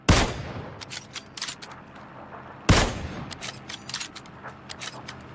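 Two sharp gunshot blasts from the battle royale game PUBG, each followed by a trailing echo and scattered small clicks and rattles, loud and close with a gap of a few seconds between them.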